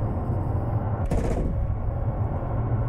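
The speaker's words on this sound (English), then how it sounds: "So let's try cannons on the ground." Aircraft cannons fire at ground targets in the War Thunder video game, a brief rapid burst of shots rising over a steady loud engine drone.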